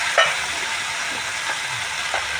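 Mustard paste sizzling in hot oil in a frying pan while cooking a Bengali tengra fish curry: a steady, broad hiss with a few soft clicks and small pops on top, with no voices.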